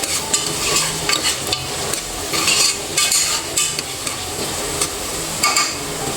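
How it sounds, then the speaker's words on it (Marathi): Chopped onion and tomato frying in a pan for dal khichdi, a continuous sizzle broken by repeated scraping strokes of a spatula stirring the mixture, close and fairly loud with no talk. "मी कांदा आणि टमॅटो अगोदर तळून घेते"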